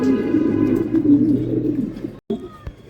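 Fancy pigeons at a pigeon farm give low, throaty coos in short repeated bursts, close and fairly clear against a quiet background.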